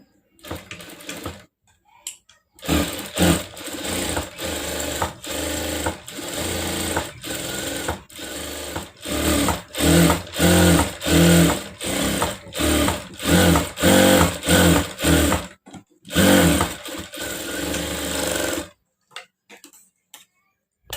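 A sewing machine stitches around the back neck of a bridal pattu saree blouse in rapid bursts of mechanical ticking, starting and stopping repeatedly with short pauses between runs.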